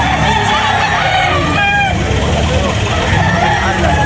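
At a busy morning chicken market in Carbon, Cebu, a rooster lets out a short crow and fowl cluck under steady vendor talk and street traffic noise.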